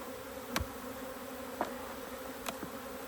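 Honeybees pile out of a smoked hive in a steady, moderately loud buzzing drone, with a few brief bees zipping close past and no talk.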